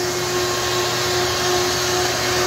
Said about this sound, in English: Have my vacuum, because this likes to make a mess